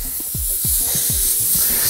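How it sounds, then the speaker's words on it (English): A continuous hissing spray of olive oil cooking spray onto baking paper on a tray, close and fairly loud for about two seconds, with faint thuds or clicks underneath. "you're gonna grab your cooking spray, give it a nice shake up, and you're gonna spray the bottom of this paper"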